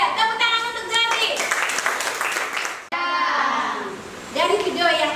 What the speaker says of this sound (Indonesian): Tepuk tangan untuk Jati.